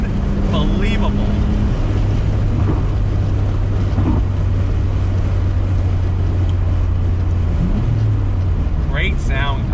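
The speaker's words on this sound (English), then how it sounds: "that sound of that RB26, and it pulls" A 1993 Nissan Skyline GTR R32 V Spec with its RB26 engine pulls in fourth gear, giving a steady low in-cabin drone that climbs near the end, with someone talking over it.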